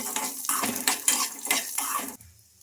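Peanuts fry with garlic and ginger in a pan while a spoon stirs them, scraping and clattering against the metal in several rhythmic strokes over a soft sizzle, then going quiet.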